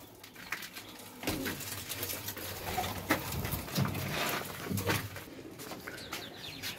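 Pigeons coo steadily at a rooftop net loft, soft and close over a busy outdoor background of rustling and distant noise.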